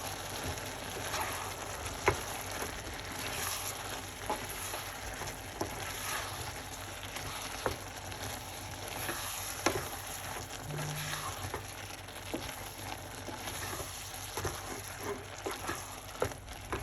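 Vegetable and seafood couscous is stirred in a pan, with a steady soft sizzle and scattered scraping taps from the utensil throughout, close and continuous with no talking.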